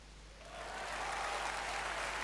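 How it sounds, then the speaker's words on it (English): A wave of applause from the video game Steins;Gate 0 rises from quiet into steady, dense clapping that stays full for a couple of seconds. "There was a huge wave of applause."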